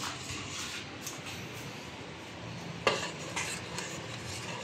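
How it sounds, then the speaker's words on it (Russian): A spoon slowly stirs in a cooking pot, producing a soft, continuous scraping swish in a quiet kitchen, broken by a couple of light metallic clinks against the side. "Потише, не надо вот так вот активно руками махать по кастрюле. Нужно медленно мешать."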